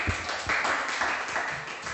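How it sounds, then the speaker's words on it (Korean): A group claps together at a children's church worship service, giving a dense, steady burst of applause that lasts about two seconds. "박수."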